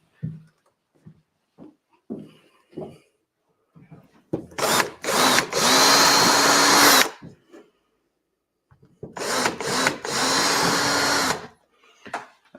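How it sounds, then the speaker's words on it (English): A power drill whirs loudly in two bursts of several seconds each. Soft knocks and handling noises fill the quieter gaps between them. "Where did I put my drill?"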